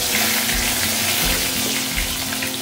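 Taro pieces and panch phoron crackling in hot oil left from frying fish, a steady close, loud hiss with bubbling texture and a few low thumps, no voices.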